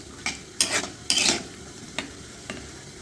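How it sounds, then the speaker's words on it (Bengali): A spoon stirs pumpkin with turmeric, salt, water and mustard oil in a pan, with several close scraping strokes, two of them louder and longer, then lighter taps. "এখন এটা নাড়াচাড়া একটু মিশিয়ে দেব"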